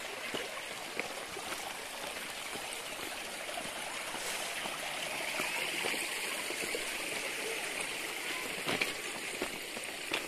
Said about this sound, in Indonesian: Jadi ini air terjunnya panjang banget. Aliran sungai.